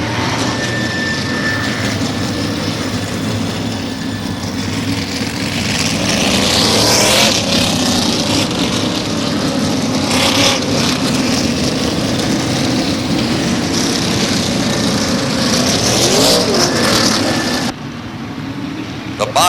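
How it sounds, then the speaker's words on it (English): NASCAR Featherlite Modified Tour race cars circulate in the 1996 season finale at the Thompson World Series, their engines a steady, dense roar that fills the whole stretch while an announcer talks over it. "That's the field for the final event of the 1996 season for the NASCAR Featherlight"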